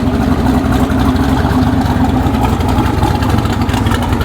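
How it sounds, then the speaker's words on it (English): The engine of a 1986 Chevrolet C10 square-body pickup idles at a car show, a loud, steady, rough low rumble that holds an even lumpy pulse without revving. "that's an angry sounding motor there"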